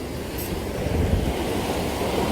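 Sea waves and swell at a squid fishing spot near Yeosu on a windy day, a steady, loud wash of surf with wind noise buffeting the microphone throughout.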